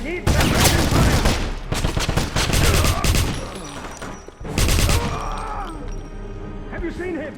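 Gunfire from the video game Wolfenstein (2009) rings out in loud, dense bursts and rattling volleys, mixed with crashes and shouting soldier voices throughout.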